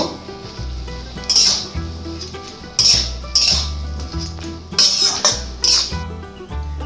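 A spoon scrapes and knocks against a pan while stalk curry with turmeric is stirred, giving several crisp metallic clinks in uneven bursts over a steady low background hum.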